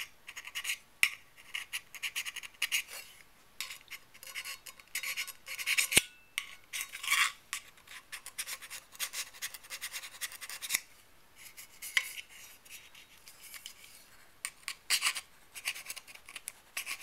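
A very small file rasps inside a metal pitot tube for an RV-7A aircraft to deburr it, giving quiet, close, irregular scratching strokes with brief pauses and no talk.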